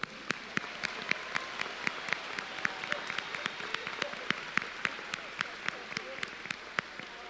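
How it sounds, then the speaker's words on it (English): Applause at a high school honors convocation, heard as sparse, fairly faint clapping from a small group with sharp individual claps spread evenly over several seconds. "let's give them a round of applause"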